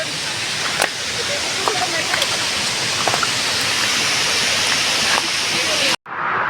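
Kinalos waterfall in Konkan, Maharashtra, heard from its upper edge: a steady, loud broadband roar of rushing water that continues without a break, with faint scattered sounds on top, until it cuts off near the end.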